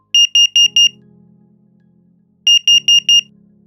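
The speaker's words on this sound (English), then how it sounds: "You will hear 4 beeps, a pause, and 4 beeps again for carbon monoxide" A carbon monoxide alarm test: two sets of four sharp, high electronic beeps from an SC5 smoke and carbon monoxide alarm, separated by a pause, with a low steady hum beneath each set.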